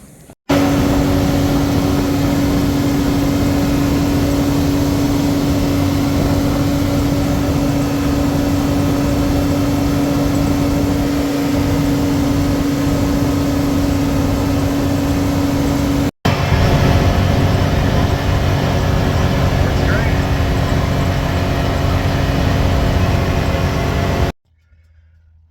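A 2021 Can-Am X3 side-by-side fitted with a full windshield drives steadily, its engine droning and wind rushing loudly and evenly throughout, with a brief cut partway and no talking.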